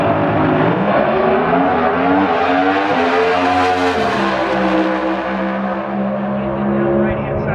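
Pro Stock Mustang drag cars roar down the strip, a loud, dense engine drone climbing in pitch through the run and then easing off near the end, with steady harmonic layers and no pauses.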